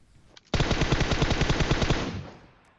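Automatic fire from an M4 rifle in the video game PUBG Mobile: one sustained, rapid burst of close, loud shots lasting about a second and a half, then a short ringing tail.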